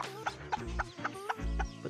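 A Japanese Chabo bantam mother hen clucks close by in a soft, steady series of low throaty clucks, repeated about every quarter second, with no talk over it.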